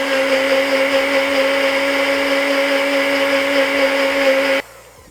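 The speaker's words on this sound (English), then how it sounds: "I'm using a blender because it's a little more violent" A blender frothing a drink for an espresso martini whirs loudly at a steady high pitch, then abruptly shuts off, leaving a faint low hum.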